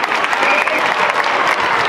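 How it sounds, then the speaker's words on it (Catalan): An audience at a school choir concert applauds steadily and loudly for the whole stretch, a dense wash of many hands clapping with no talk over it. "Fora l'aplaudiment."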